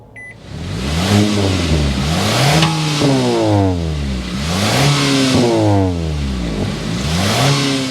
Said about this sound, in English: start up this VC turbo so you can hear that exhaust note